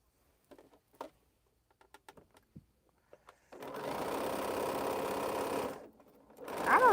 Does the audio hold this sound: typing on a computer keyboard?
no